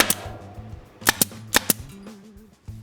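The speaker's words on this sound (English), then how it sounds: "Don't be surprised if your staple gun occasionally jams up" A staple gun fires into the rear seat upholstery of a Karmann Ghia, with about six sharp, loud snaps in uneven clusters, some in quick pairs, over a low background hum.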